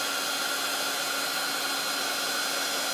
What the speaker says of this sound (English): dry it with my heat tool